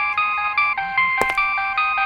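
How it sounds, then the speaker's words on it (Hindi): A mobile phone ringtone plays loud and close, a repeating electronic melody with short regular pulses and a brief click partway through. "आपका फोन नहीं बज रहा है, हमारी मैडम का फोन बज रहा है"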